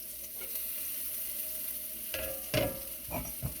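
Onions sizzle and crackle in a hot pan, a steady frying hiss with a few louder spits and pops toward the end.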